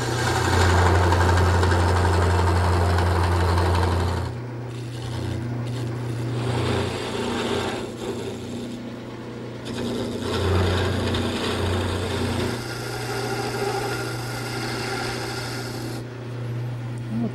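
Wood lathe turning a quilt rack part, with a larger gouge cutting the straight section between two beads: a steady motor hum with rough scraping and rubbing from the cut, louder at first, then settling into a level drone.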